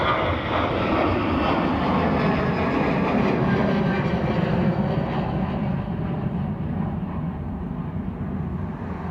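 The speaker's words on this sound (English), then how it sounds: "I know it's an Embraer, but the nose flared up on it like they were going to go round." Embraer jet aircraft near the runway at Dublin Airport, flaring on a landing approach as if set to go around: a steady, loud broadband engine roar held throughout and slowly fading toward the end, with no voices.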